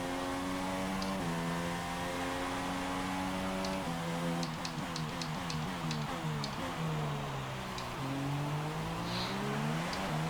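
An F1 2016 video game race car at the Canadian Grand Prix, its engine climbing and dropping through gear shifts with a smooth whine, plus brief ticks and a light tire scrub as the rear slides under power.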